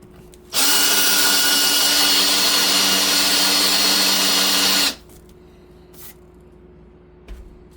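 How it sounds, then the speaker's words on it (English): Power drill running a countersink bit into the wooden benchwork fascia of a model railway layout, one loud sustained whine of about four seconds that starts and stops abruptly, followed by quiet handling noises. "After drilling the holes, I then use a countersink"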